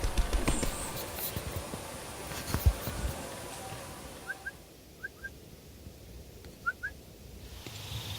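A Jalak Gading bird gives short, quick whistled chirps in pairs, heard three times, fairly faint, over a quiet outdoor background.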